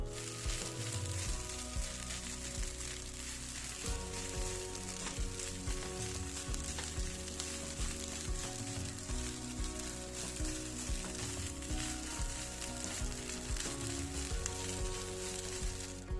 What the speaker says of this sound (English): the rice is sizzling because it is frying